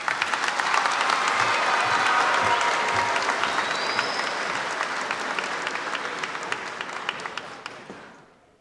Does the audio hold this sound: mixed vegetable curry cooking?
no